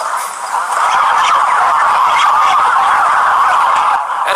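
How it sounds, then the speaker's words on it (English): Dense, continuous honking and gobbling of many geese at a goose farm, loud and close, a steady crowded clamor with no talk. "At a goose farm"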